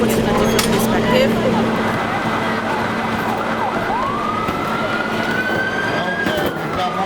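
An ambulance siren sounds during a mock bus accident emergency exercise, a rising wail that swells in from mid-distance over a busy, noisy outdoor scene with voices around.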